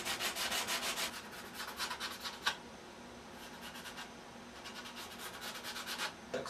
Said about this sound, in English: Okay, now I'm going to sand off the smooth finish again, so we can have a nice surface for the glue to adhere to.